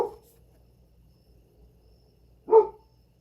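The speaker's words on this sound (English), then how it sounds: "there's my dog's barking because he hears" A single dog bark sounds from mid-distance indoors, one sharp bark near the end after a faint start, with quiet between.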